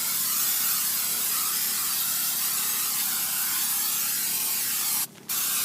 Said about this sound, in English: Now I'm going to spray my armaflex too.